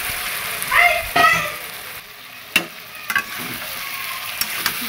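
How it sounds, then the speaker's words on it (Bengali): Food fries in oil in a wok, with a few scraping stir strokes and soft sizzling under brief bursts of nearby voices, followed by quieter intermittent clatter. "দেখো কড়াইয়ে লেগে যাচ্ছে আর তেল ছেড়ে দিয়েছে"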